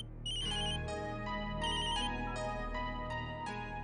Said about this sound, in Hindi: राधिका के घर से फोन